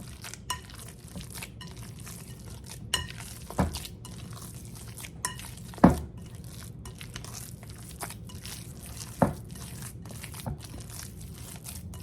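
Meatball mixture being mixed by hand in a bowl, heard as soft squishing and kneading close by, with a few sharper knocks and clinks against the bowl scattered through.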